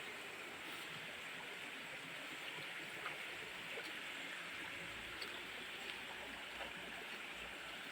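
A river flowing steadily beside a highway on a steep mountain route, a constant broadband rush of water that stays even and moderately close throughout, with no voices over it.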